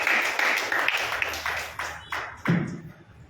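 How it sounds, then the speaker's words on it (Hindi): Congregation at a church service clapping, a loose series of claps and thumps with a busy background tone, rising and falling in loudness before fading. "बजाओ तालियां"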